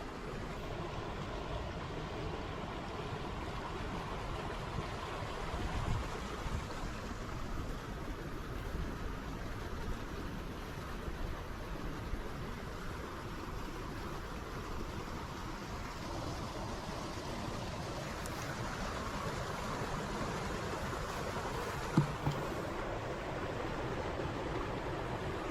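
Running water of a creek on the Mill Race Trail at White Clay Creek, captured on a GoPro, a steady broadband rush that stays constant throughout, somewhat harsh and distorted, with a brief knock near the end.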